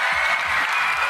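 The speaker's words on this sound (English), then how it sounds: "Clap for them." Audience applause at a televised presidential town hall debate, a brief dense burst of clapping from a crowd throughout.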